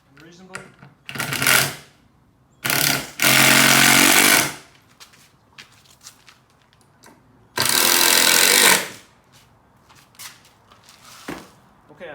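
A power drill drives screws into a replacement wood piece on an old window sash, heard as three loud, close bursts of whirring separated by quieter handling clicks and knocks.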